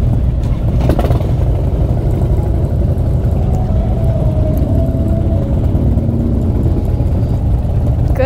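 Motorcycles idle and rumble as a group ride stages up, a steady, loud, dense engine drone that holds for the whole stretch without clear rev peaks.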